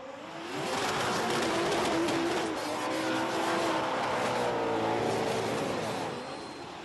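Drift cars run a track at the Riga round of the Eastern European Drift Championship, engines roaring steadily and loudly for several seconds with tire scrub, a continuous dense wash of sound with no talk.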